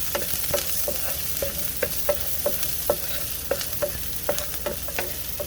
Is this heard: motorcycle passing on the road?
no